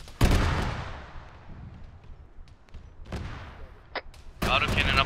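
Autocannon fire in the military game Arma 3 gives a sharp heavy report followed by long rolling echoes, then later shots and a loud final burst, with voices faintly under it.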